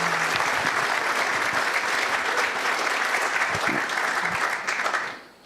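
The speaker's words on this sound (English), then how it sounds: "can we give just a quick round of applause for Alan and Cindy?" An audience at an evening talk on environmental history gives a quick round of applause, loud, dense clapping that holds steady for about five seconds and then fades out quickly at the end.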